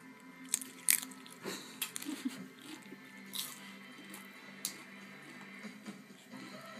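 A dog eats tortilla chips, with quiet, close, crisp crunches and bites that come in irregular bursts, then die down to softer chewing.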